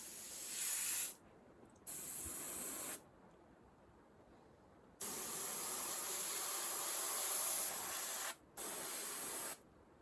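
Airbrush spraying paint onto the cylinders of a model locomotive, a steady close hiss in several bursts of about one to three seconds separated by short silent gaps.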